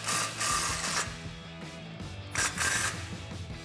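Socket ratchet with a 15 mm socket tightening an exhaust clamp on an aftermarket cat-back system for a 1999-2004 Mustang GT, giving steady close mechanical clicking and grinding bursts throughout, with no talking.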